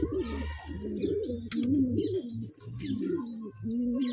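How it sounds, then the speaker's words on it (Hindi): Madrasi pigeons coo in soft, repeated low throaty rolls, several birds close by overlapping, with a few faint chirps above. "बहुत ही शानदार कबूतर है भाई"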